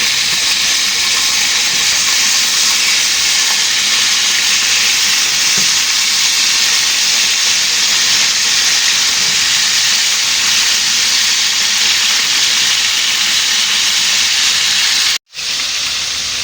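Potato chips fry in a pan of oil with a loud, continuous hiss and sizzle, steady throughout apart from one brief dropout near the end.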